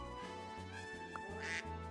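Cartoon duck quack from the Super Auto Pets video game, a single short nasal quack sounding over steady rhythmic game music, fairly clear and mid-loud.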